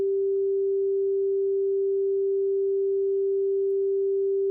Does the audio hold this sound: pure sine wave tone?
yes